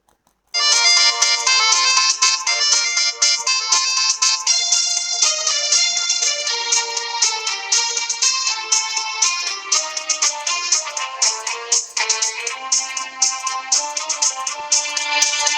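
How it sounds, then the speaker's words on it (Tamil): Bright, chiming melody in a music-box or ringtone style plays steadily and loudly, a simple festive tune with no voices. "முதல்ல ஒரு கிறிஸ்மஸ் பாடலை கேட்டுடலாம்."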